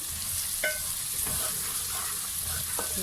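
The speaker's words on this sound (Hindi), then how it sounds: "30 सेकंड के लिए इसको भूनेंगे ताकि मिर्चें ना जलें" Ginger and green chillies fry in hot oil for an aloo gobhi curry, a steady low sizzle with a few faint scrapes of stirring, close and quiet, no talking.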